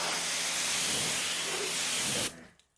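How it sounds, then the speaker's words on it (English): A pressure-washer spray rinses detailing product off a car panel, bottom to top, a loud broad hissing rush that cuts off abruptly near the end. "we're gonna go ahead and rinse the product from bottom to top"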